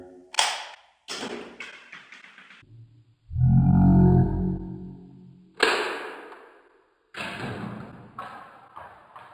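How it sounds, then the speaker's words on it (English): A working Lego gun being test-fired, heard as a few sharp taps and thuds followed by a louder, longer low rumbling burst, then more clicking impacts, all close and with no talking. "Commencing gun firing test."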